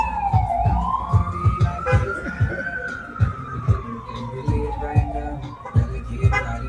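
An ambulance siren wails in long rising and falling sweeps, with loud thumping knocks and bumps close by underneath it.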